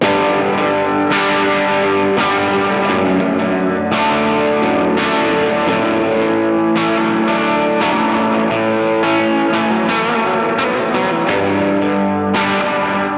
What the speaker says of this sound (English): okay, so I've set the reverb to 1 bar.